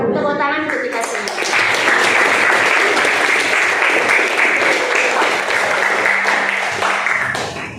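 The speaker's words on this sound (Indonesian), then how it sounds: "Tepuk tangan untuk kita semua." Classroom group applause at a teachers' training session starts just after a voice, then builds into loud, steady clapping that lasts several seconds before easing off.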